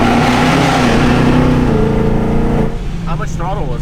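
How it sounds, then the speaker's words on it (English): A Mustang GT track car roars loudly close by, then drops off into a sharp blow-off valve whoosh, with voices talking through it. "Dude, the blow-off noises."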